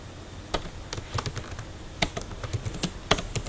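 Typing on a computer keyboard, with irregular bursts of crisp key clicks and taps close by at a moderate level, with no voices.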